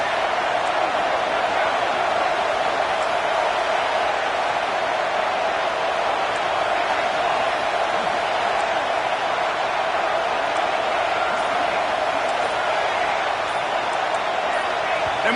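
A loud stadium crowd at a football game roars as a steady, dense wall of noise for about fifteen seconds, continuous and unbroken.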